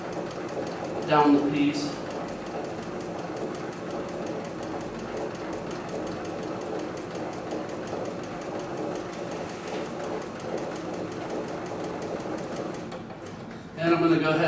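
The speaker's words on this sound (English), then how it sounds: "So I'm just going to start sewing here" Large cylinder-bed sewing machine stitching at a very low RPM, a steady mechanical churn running through most of the clip, with a voice speaking briefly near the start and again at the end.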